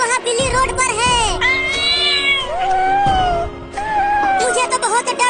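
A cartoon cat on a road lets out loud, drawn-out meows and yowls in rapid succession, near and prominent, with wavering wails between them.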